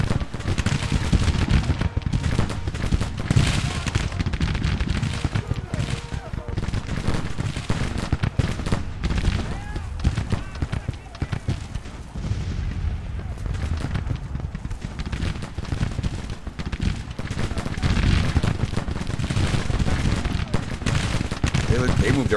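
Dense, continuous battle din from Grand Tactician: The Civil War, a Civil War strategy game: layered gunfire and artillery booms rumble throughout, steady and loud with no pauses, and a voice may be faintly mixed in.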